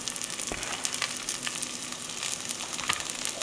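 Rice and tomatoes sizzling as they go into a hot pan, a steady close frying hiss with occasional stirring scrapes and no talking.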